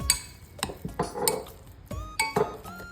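A spoon lightly stirs light Kikkoman soy sauce and Worcestershire sauce in a bowl, giving a handful of close, crisp clinks and scrapes against the dish at an uneven pace with quiet gaps between.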